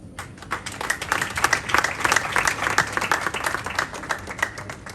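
Wedding guests applaud steadily for about five seconds, a dense wash of many hands clapping at close range with no voices breaking through.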